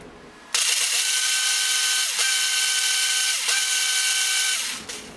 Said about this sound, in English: we're going to give this a blend. So cover your ears.